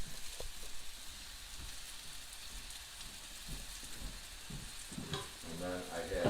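Egg mixture sizzling in a cast iron pan, a steady soft hiss with faint crackle throughout, growing a little busier near the end, with occasional light clatter.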